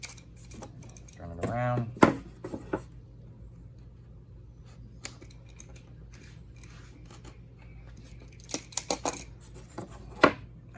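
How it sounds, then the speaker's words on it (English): A sharp utility knife trims maple edge banding flush along a plywood edge in a few quick scraping cuts, with a brief spoken remark and quiet handling noises between strokes. "now we're going to trim the edge off here with our sharp knife, utility blade"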